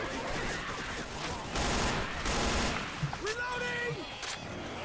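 Gunfire in the Left 4 Dead 2 video game, a dense, continuous fusillade of shots mixed with game noise, fairly loud, with voices talking over it.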